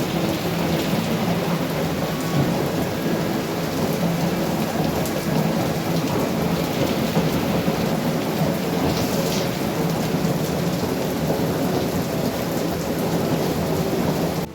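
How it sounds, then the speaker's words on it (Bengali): Heavy rain pours in a steady, loud, unbroken roar, with thunder rumbling low underneath across the whole stretch. No one speaks. "দেখুন কি জোরে বৃষ্টি পড়ছে।"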